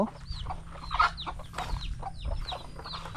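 Darag native chickens cluck and call close by, with several overlapping short clucks and chirps over a low background hum.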